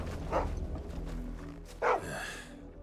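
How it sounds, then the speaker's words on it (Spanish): A dog in Final Fantasy XVI barks twice, short moderately loud woofs spaced about a second and a half apart over a low ambient background. "Ah, pero si es un perro pocho."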